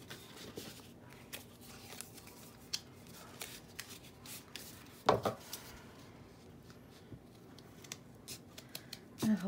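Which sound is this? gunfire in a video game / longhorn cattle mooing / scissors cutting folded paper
scissors cutting folded paper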